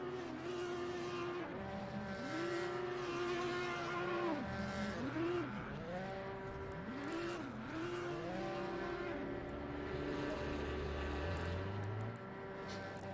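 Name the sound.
GT3 race cars going out, Assetto Corsa Competizione video game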